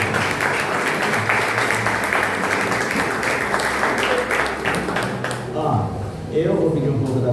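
A congregation at a church retreat applauds while sitting down, a thick, continuous round of clapping for about five seconds that thins out before a voice begins speaking at the end.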